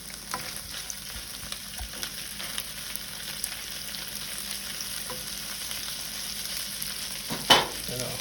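Strips of bacon frying in a pan give a steady close sizzle and crackle throughout, with a brief louder clatter near the end and no talking.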